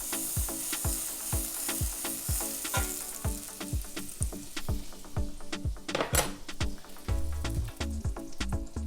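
Butter sizzling in a heated pan while Brussels sprouts and bacon are cooked, a steady frying hiss broken by regular sharp clicks and scrapes of utensils against the pan, close and fairly quiet, with no voices.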